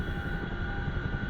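A CH-47F Chinook helicopter in the DCS flight simulator drones with a steady, loud engine and rotor rumble and a constant whine.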